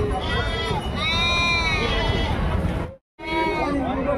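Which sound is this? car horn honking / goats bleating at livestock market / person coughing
goats bleating at livestock market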